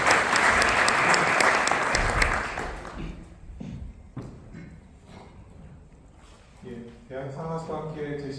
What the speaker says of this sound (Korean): 큰 박수로 맞이 부탁드리겠습니다.